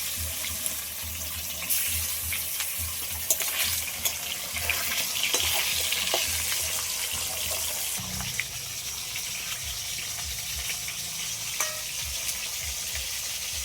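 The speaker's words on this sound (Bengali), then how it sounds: "অল্প তেলেই মাছটা আগে ভাজবো" A silver carp fries in a little oil in a wok with a steady, moderate sizzle and crackle. Faint clinks and a low splashing shift join in partway through.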